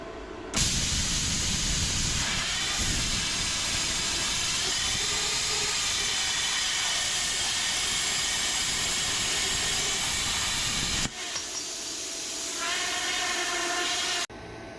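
A YesWelder CUT-65DS plasma cutter slices through a hollow steel tube with a loud, steady roaring hiss that holds for about ten seconds, then drops to a softer hiss before cutting off.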